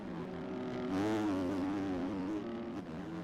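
A Kawasaki motocross motorcycle engine revs at a professional motocross race, its buzzing note rising and falling with throttle changes over a few seconds, moderately loud and fairly close.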